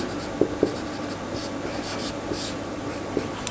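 Chalk or marker writing on a board during a physics lesson, scratchy strokes and taps in short bursts, close and moderately loud over a quiet room.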